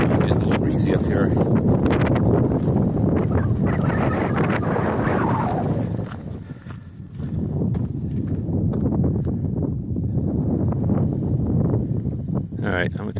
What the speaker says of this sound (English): It's getting a little breezy up here.